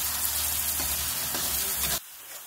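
Green chilies dropped into hot oil sizzle loudly and steadily at close range, the frying hiss cutting off abruptly near the end.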